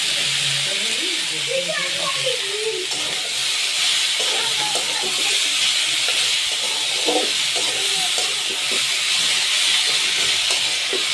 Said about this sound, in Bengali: এখানে যে আলু দিয়ে দিচ্ছি, আলুটা ভালো করে ভেজে নেব